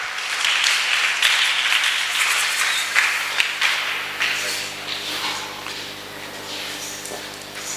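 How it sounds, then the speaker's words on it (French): A church congregation breaks into loud, sustained applause at a Sunday service, a dense wash of clapping that swells and then gradually thins out over several seconds. "Donc ça veut dire que nous devons arrêter le vol. On acclame,"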